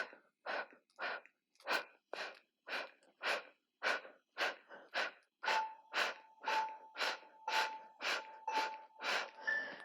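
Rhythmic forceful breathing during abdominal core pulses, about fifteen sharp exhales and inhales in a steady pattern, close and clear with a faint tonal hum appearing midway.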